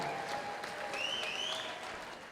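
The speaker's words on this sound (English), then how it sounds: "Let's hear it for both these fighters first and foremost." At a caged MMA event at Catfish Bend Casino, applause for the two fighters fills the room in a steady patter of clapping, fairly distant and moderate, with a faint whistle rising through it and no clear talk.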